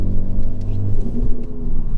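Honda Civic Type R GT with a 2.0-litre i-VTEC engine running at idle, a steady, close low rumble that holds evenly throughout with no voices.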